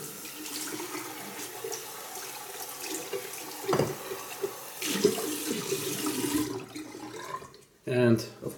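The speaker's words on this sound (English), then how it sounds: "And last thing is the bowl. Just give it a good rinse. Rinse everything off." A shaving bowl is rinsed under a running tap, giving a steady rush of water with splashes and a few knocks, then a brief louder gush near the end.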